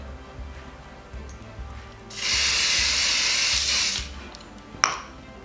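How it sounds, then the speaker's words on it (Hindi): A spray can hisses as glaze is sprayed onto a decorative plate, one steady loud burst lasting about two seconds, followed later by a brief short puff amid faint room noise. "यहाँ को जब स्प्रे कर दे आप प्लेटा बहुत ग्लेज करेंगे"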